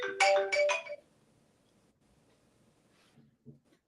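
A phone ringtone plays a loud burst of bright, repeated tones at the start and then stops, leaving quiet room noise with a few faint knocks.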